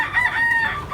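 A Gilmore Hatch gamecock rooster crows loudly and close by, a single drawn-out call filling the short moment.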